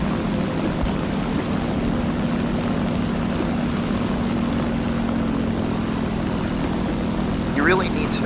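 A propeller aircraft engine in War Thunder, climbing near Taratupa volcano, holds a steady droning hum at constant pitch for the whole stretch, loud and continuous, with a brief rising tone near the end.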